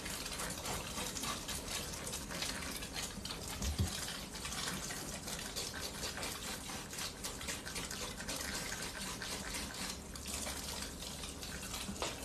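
Cold water runs steadily from a faucet while dyed hair is rinsed, a constant close hiss and splash with no pauses and no voices.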